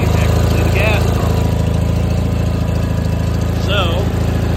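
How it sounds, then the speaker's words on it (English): An Onan 16 HP engine runs on a 1989 John Deere 316 lawn tractor, a loud, close, steady mid-pitched rumble that holds throughout, with someone talking over it. "of the engine, which is an Onan 16 horse."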